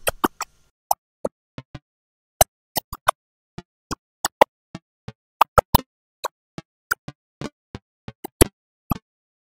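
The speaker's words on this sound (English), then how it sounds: "In output we hear like a pluck of the sound" Short plucked synth notes with zero attack, zero sustain and a long release, in a sparse, irregular sequence, each a quick percussive attack with a brief tail, clear and dry, no voices.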